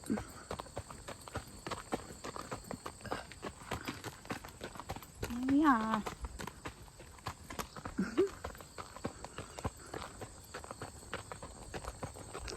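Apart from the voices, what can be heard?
horse hooves walking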